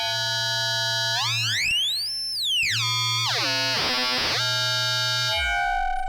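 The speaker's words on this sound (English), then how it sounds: "I actually prefer to listen to the actual core of the oscillator" An electronic oscillator tone from a Joranalogue Generate 3 sweeps up and down in pitch, gliding smoothly through high and low notes, steady and loud with a buzzy harmonic edge, from its triangle core.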